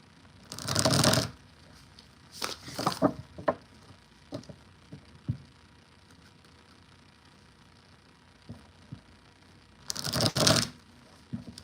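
Tarot cards being shuffled, with bursts of riffling and flicking card noise in several separate rounds, close and fairly loud, with quiet handling sounds between and no talking.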